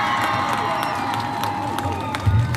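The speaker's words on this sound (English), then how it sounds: "You still get a round of applause for our effort." Audience at a 4-H livestock expo for market poultry giving a short round of applause mixed with crowd cheering and scattered shouts, moderately loud and continuous.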